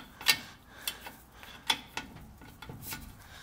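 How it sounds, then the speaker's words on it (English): An 11mm wrench works on U-joint bolts, giving a handful of sharp metallic ticks and clicks spaced irregularly, close and fairly quiet. "take our 11mm and release these bolts"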